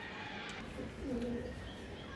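Racing pigeons in a loft give a low, soft cooing phrase in the middle, set against a steady background hum with no clear talk.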